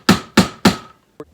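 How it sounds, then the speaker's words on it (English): Roll crimp tool struck onto a .410 shotgun shell during hand loading without a press: three sharp, loud, evenly spaced smacks, then one lighter tap, close up and with no talk. "just take your roll crimp tool, give it a few smacks"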